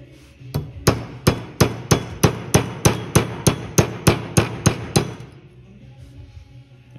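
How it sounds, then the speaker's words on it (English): A screwdriver is hammered down behind a cracked part near a cylinder on a cabover truck during restoration work, giving about fourteen sharp, close metallic taps in a steady, even rhythm before they stop and leave quiet. "I think I'm just gonna wedge a screwdriver down behind it and should be able to get it out"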